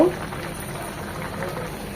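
Boal fish head curry with pui greens simmers uncovered in a pan, a soft steady bubbling and low hiss with no talk.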